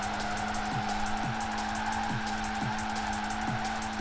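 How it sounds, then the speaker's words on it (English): A Vauxhall Corsa drifts in the Forza Horizon 4 racing game, its engine humming steadily while short tire squeals and skids repeat at regular intervals throughout. "the car that I can drift around properly is a Vauxhall Corsa"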